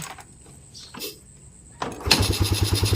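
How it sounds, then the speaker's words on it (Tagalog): A Honda CB125 motorcycle is kick-started: a few quiet clunks of the kick lever, then the engine fires and settles into a loud, steady idle close by. "nung i-start ko, isang tadyak lang, andar agad"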